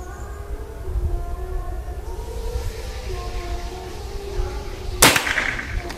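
A PCP air rifle fires a dome pellet in one sharp, loud crack near the end, after several seconds of quiet background with a faint steady tone.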